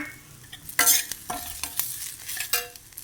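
Dry coconut and green chillies being lightly roasted in a pan for sambar, with a quiet background hiss and several sharp, close clinks and scrapes of a spatula stirring at irregular intervals.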